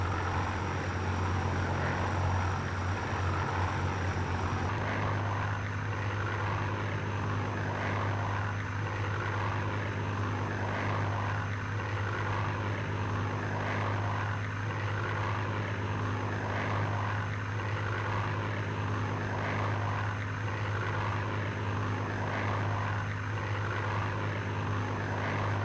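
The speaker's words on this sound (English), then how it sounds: "he and 5 other aircraft dove down to attack the Spitfires." WWII Bf 109 fighter aircraft diving in the Battle of Britain, heard as a continuous loud propeller-engine drone that holds steady throughout with no other sounds.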